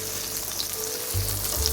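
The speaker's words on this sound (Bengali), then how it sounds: "আর এখানে মাছ ভাজা প্রায় শেষের দিকে" Fish fries in a pan with a steady, even sizzle and fine crackle, moderately loud and unbroken throughout.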